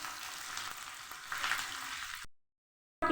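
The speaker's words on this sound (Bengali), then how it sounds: "আমি পেঁয়াজ লঙ্কা লাল করে ভেজে তুলে নেব।" Finely chopped onion and dried red chilies fry in a pan of hot oil, a strong continuous sizzle with faint stirring, cutting off abruptly into silence near the end.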